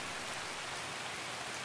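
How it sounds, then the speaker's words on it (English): Steady rain falls in Escape From Tarkov, a continuous even hiss of drops with no pauses, moderately quiet and heard without any voices. "Very rainy day, though, for us."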